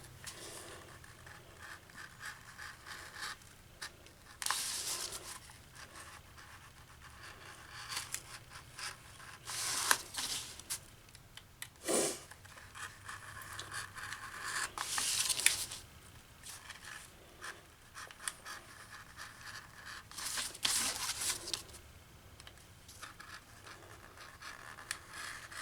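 Homemade DIY gasket material being cut out by hand, soft scratchy snips and scrapes recurring in irregular bursts, close and quiet, with no talking.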